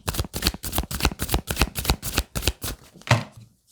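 Tarot cards riffled and shuffled in quick rhythmic bursts, about a dozen crisp flutters close to the microphone, ending with a louder snap and then silence.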